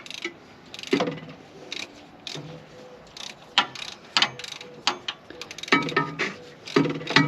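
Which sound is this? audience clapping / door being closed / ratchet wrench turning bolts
ratchet wrench turning bolts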